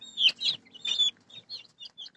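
Backyard chickens and young roosters clucking and peeping near the microphone, a string of short, bright calls with small gaps between them.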